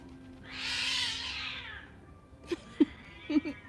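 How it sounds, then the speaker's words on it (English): Cats outdoors: one long, loud drawn-out caterwaul rising and fading, then several shorter, quieter meows in quick succession, fairly close. "You hear them cats?"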